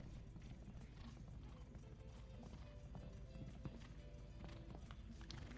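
A dapple grey horse canters around a youth show jumping course, its hooves thudding in a soft rhythmic beat at a distance, faint beneath low arena ambience.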